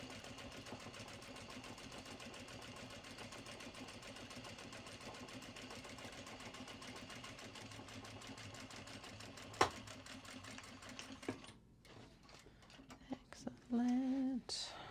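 Sewing machine stitching at a community sewing session, a faint, steady mechanical whir with rapid even ticking that continues for most of the clip, then trails off into light handling noises.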